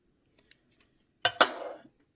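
Scissors snip midge-sized flash for fly tying at close range: a faint tick, then two sharp quick cuts followed by a brief rustle of material, otherwise quiet.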